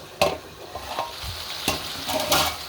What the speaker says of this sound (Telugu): చూసారు కదా, ఇలా చికెను ఈ సాల్ట్ కారంతోనే మనకి ఉడికిపోతుంది.